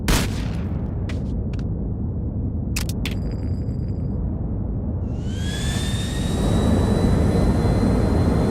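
Jet airplane engine in Grand Theft Auto, a steady broadband roar throughout with a few sharp clicks and bursts early on, then rising whining tones as the engine spools up louder in the second half.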